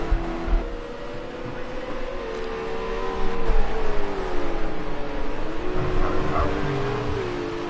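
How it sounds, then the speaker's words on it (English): A pet dog barks and whimpers a few times at moderate distance over a low, steady background drone, growing slightly louder toward the middle. "And that's my dog, Riddle."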